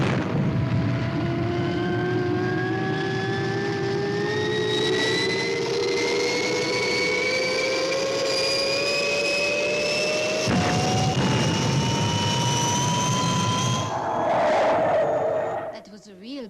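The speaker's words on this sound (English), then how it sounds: "That was a real boss takeoff, Steve." The Fireball XL5 spaceship takes off with a loud, rising jet-like roar, whining tones climbing steadily in pitch over a dense rumble before it cuts off near the end.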